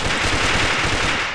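An AN94 rifle is test-fired in the shooter game AVA, a rapid, continuous stream of loud, close gunshots in tight automatic bursts without talk.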